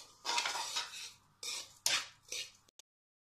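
A spoon stirs sooji, milk powder and sugar roasting in a pan, four or five short scraping strokes against the metal, up close and fairly quiet, ending in silence.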